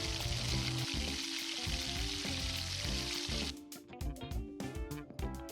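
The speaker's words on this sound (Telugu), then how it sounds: "ఆయిల్ కొంచెం హీట్ అయినాక దాంట్లో కట్ చేసుకున్న ఆనియన్స్ వేసుకోండి." Chopped onions hit about two tablespoons of hot oil in a pan for mutton curry, giving a loud, steady, close sizzle and crackle that later breaks into sputtering pops, with no voices.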